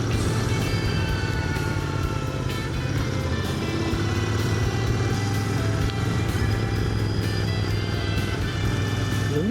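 A Royal Enfield Interceptor motorcycle rides through woods in the Yvelines, its engine droning steadily and close with continuous road and wind noise, and no talking.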